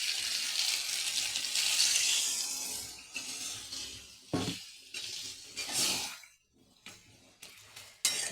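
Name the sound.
water poured into soybean curry in pan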